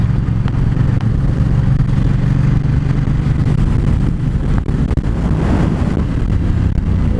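Ducati XDiavel motorcycle with a twin-cylinder L engine, a steady low rumbling drone while riding, loud and close, with wind buffeting the microphone.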